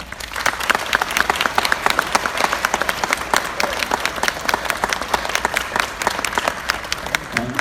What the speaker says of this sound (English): And let's have a big round of applause.